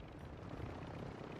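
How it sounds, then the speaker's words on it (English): A video game helicopter gives a steady, dense rotor drone at constant loudness, heard alone with no talking. "I don't know if that's an AI helicopter or..."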